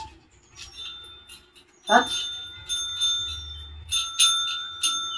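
A dog touches a bell to ring it, producing a few bright metallic rings, one near the start and a cluster later, while a person speaks nearby.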